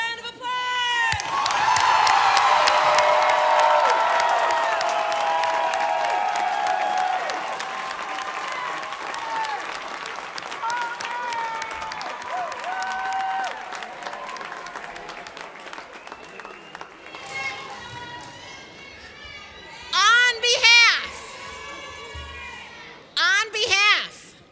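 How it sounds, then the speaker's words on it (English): Graduation audience at Rhodes College and Career Academy applauding and cheering, a loud sustained wave of clapping with whoops that fades, followed by a few scattered shouts and cheers from the crowd. "Let's give them one more round of applause."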